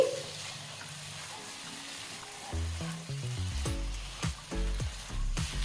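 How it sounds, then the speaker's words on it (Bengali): Fried kohlrabi and potato pieces are stirred into spiced oil in a pan for olkopir dum, a steady close sizzle with scraping stir sounds over faint background music and no voice. "এবারে এতে দিয়ে দিচ্ছি ভেজে রাখা ওলকপি ও আলুর টুকরোগুলো তারপর সব ভালোভাবে মিশিয়ে নিচ্ছি"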